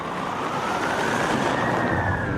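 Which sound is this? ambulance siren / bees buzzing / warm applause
ambulance siren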